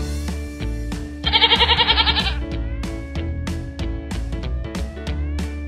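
A goat bleats in a quick, wavering series of bleats for about a second, set over a loud, bouncy children's song with steady beat and synth music.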